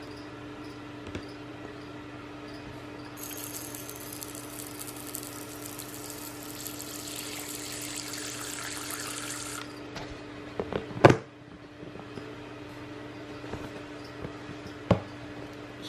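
Water is poured into a recently molted female tarantula's water dish: a thin, steady trickle for about six seconds, followed by a few sharp clicks and knocks as the dish is set down.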